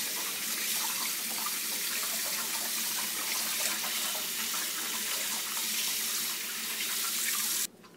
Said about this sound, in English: Start rinsing it out.